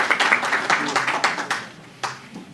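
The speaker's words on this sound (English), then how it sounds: "that clap was very feeble" Scattered, feeble clapping from an audience at a press club luncheon, a few uneven hand claps that thin out quickly, with a voice briefly heard over them.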